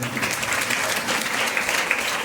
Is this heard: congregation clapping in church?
yes